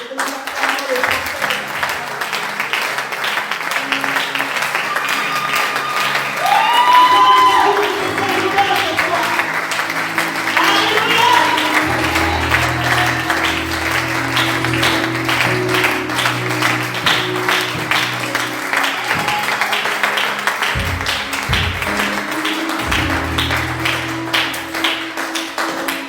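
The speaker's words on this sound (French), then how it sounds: "j'aimerais simplement que nous acclamions la parole. Et que nous acclamions le pasteur." Congregation in a church service applauding and cheering for the pastor, a dense, sustained wash of clapping and shouting with a sung or spoken voice rising over it and low music underneath.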